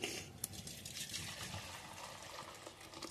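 Water trickling and pouring into ground flour in a village kitchen, a faint, uneven liquid splash and dribble close by with soft background noise.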